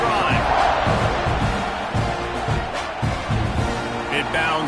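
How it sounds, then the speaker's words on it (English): Stadium crowd roaring in the College Football 26 video game during Texas A&M at Florida, a loud, constant wall of cheering that sits under a commentator talking. "this crowd is feeling themselves after that last drive"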